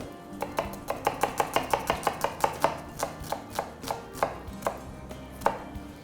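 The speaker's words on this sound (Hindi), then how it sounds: "and just gonna chop it very finally" A knife finely chopping onion on a board, about twenty crisp, evenly spaced taps that come fast at first and then slow toward the end, close and clear with no talking.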